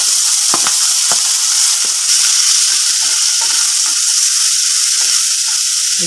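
Cowpeas with mustard seeds, urad dal, cumin, curry leaves, chopped onion and dried chillies sizzle steadily in hot oil, a loud continuous frying hiss broken by scattered pops and the scrape of stirring.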